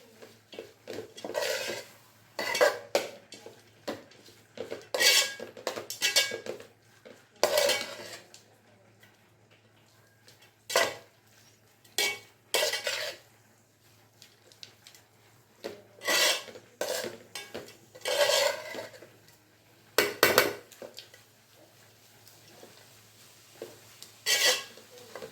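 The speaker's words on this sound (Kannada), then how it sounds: "ಈಗ ಚೆನ್ನಾಗಿ ಮಿಕ್ಸ್ ಮಾಡ್ಕೊಂಡ್ಬಿಡೋಣ." Soaked poha (avalakki) being mixed in a pot, with repeated scraping and clattering strokes of a spoon against the metal in irregular bursts separated by short pauses, close and fairly clear.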